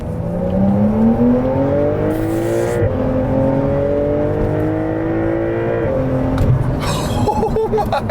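A Porsche 911 Carrera 4S engine revs hard as the car accelerates up through the gears. Rising engine pitch breaks at each upshift, loud and close from inside or near the car, with no talking.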